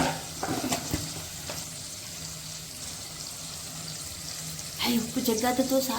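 Mutton sizzles and fries in a pan close by, a continuous crackling hiss broken by a few stirring clatters, with a brief voice near the end.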